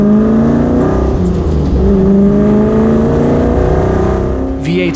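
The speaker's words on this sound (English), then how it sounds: "The engine is amazingly loud and it sings the best song." A loud, throaty V8 engine of a 1965 Shelby GT350R Mustang pulls under acceleration, its deep burbling note rising and holding close by, with a short whine at the very end.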